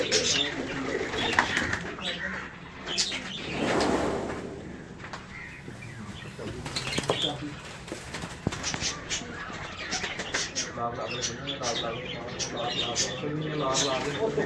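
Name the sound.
pigeons cooing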